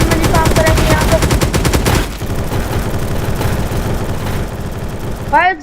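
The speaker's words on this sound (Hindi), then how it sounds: "ये हमारी मिनी गन आ चुकी है।" A minigun fires in a Roblox game, a loud dense burst of rapid shots that stops abruptly and gives way to softer game noise and a brief sweeping effect at the end.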